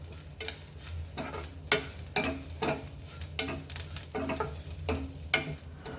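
Grated coconut being stirred into reddened, browned onion in a pan, a steady sizzle of frying broken by repeated scraping strokes of a spoon, close and fairly loud with no voices.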